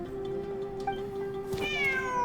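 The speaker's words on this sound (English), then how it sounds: "It's the cat again." A single drawn-out cat meow in the video game Genshin Impact, clear and fairly close, rising in pitch toward the end over a soft steady background hum.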